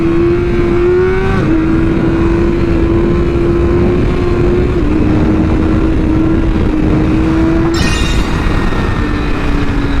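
Motorcycle engine revving steadily through a clutch-up wheelie, a loud sustained drone that dips and rises in pitch with a brief throttle blip near the end, up close with no talk.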